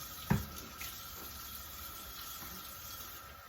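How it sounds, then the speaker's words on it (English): Water runs from a kitchen tap during a quick hand wash, a faint, steady hiss of flow with a short knock near the start. "just washing my hands real fast"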